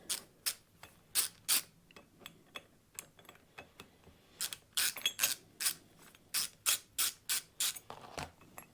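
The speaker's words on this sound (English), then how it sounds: "Just undo these 3 screws and get the base plate" Small screws being undone on a Stratocaster guitar tremolo to free the base plate from the block, heard as a long series of sharp, close metallic clicks and ticks in an uneven rhythm, some loud and some faint.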